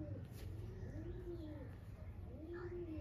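A Kalpotiya breeder pigeon in a loft gives repeated low, rolling coos, close and clear, against a steady low background hum.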